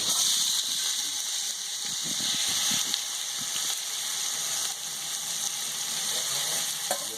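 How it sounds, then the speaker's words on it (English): Diced onions frying in a hot pan for a Peruvian-style pot roast, giving a steady, loud, close sizzle throughout with a few faint stirring clicks and scrapes; no talking. "I got this nice and hot, and now what I do is my diced onions"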